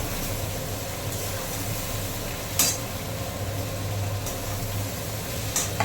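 Two whole green chillies dropped into hot oil for a light tilapia fish curry, giving a continuous close sizzle with a couple of sharp clinks from a pan or utensil, no talking.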